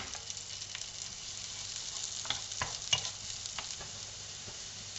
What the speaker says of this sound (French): Quand le beurre est fondu, donc je rajoute les échalotes que je vais laisser suer